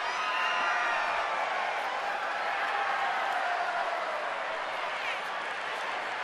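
A baseball stadium crowd of nearly 29,000 roaring and cheering at a Saturday game, a broad, steady wash of distant voices with faint whoops, while an announcer talks over it.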